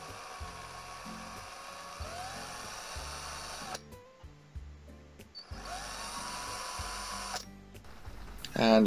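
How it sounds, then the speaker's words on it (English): A power drill drilling out a rusted rivet on a Matchbox Ford Thames Trader model whirs in short bursts of varying pitch, stopping and starting several times, with a pause in the middle and a clatter at the end. "So we're now going to drill out the one rivet."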